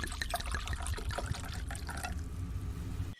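Beer from a freshly opened can, an IPA, poured into a glass: a steady, faint trickling and fizzing stream of liquid runs for about three seconds, then cuts off abruptly.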